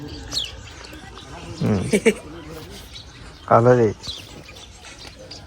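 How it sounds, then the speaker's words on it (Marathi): A pigeon at a home gives two short bursts of cooing against light background noise, with a person speaking briefly nearby. "तर कबूतर आलेला आहे, पाहू शकता."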